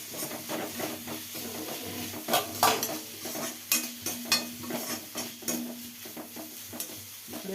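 Amaranth stem curry with tamarind being stirred in a pan, a spoon scraping and knocking against the metal in irregular strokes over a soft sizzle, close and moderately loud.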